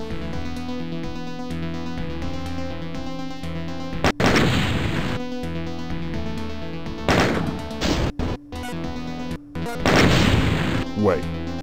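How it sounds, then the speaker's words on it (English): Explosions in Final Doom: TNT Evilution, several heavy booming blasts and crashes bursting over looping game music and sound effects, loud and close, coming in repeated clusters. "I better not be in the middle of these explosions."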